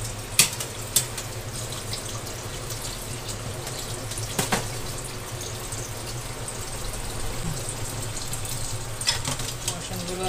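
Dishes being washed under a running kitchen tap, a steady stream of water with occasional clinks and clatters of crockery, close by.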